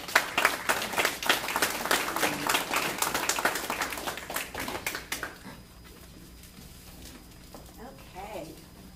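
Audience applause at a chamber of commerce lunch meeting, a dense burst of many hands clapping for about five seconds, then fading into quiet room murmur with a few voices.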